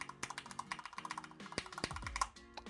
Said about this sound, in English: Pretty good audio from the keyboard as well, being a flat aluminum deck.